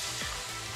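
Jengkol frying in hot oil in a home kitchen makes a dense, continuous sizzle, close and steady throughout, with a couple of faint scrapes underneath.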